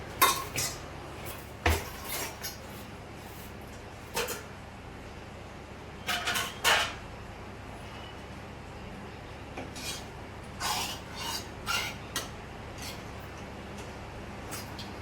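Dishes and utensils clink intermittently as food is served at home: scattered sharp clatters of metal and crockery, some in quick clusters, with quiet gaps and a faint background hum.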